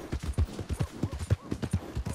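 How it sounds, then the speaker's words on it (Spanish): Horse hooves gallop in the video game Red Dead Redemption II, a steady rapid clip-clop of muffled thuds, moderately close and alone. "Este caballo corre un poco."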